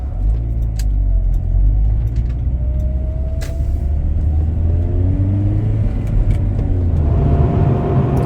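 A 2023 Honda Prelude fitted with Maxpeedingrods coilovers, set two clicks below max, drives slowly over a bumpy road. A loud, steady low rumble of road and engine noise fills the cabin, with occasional rattles and knocks. No one speaks.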